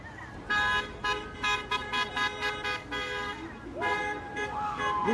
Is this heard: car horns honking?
yes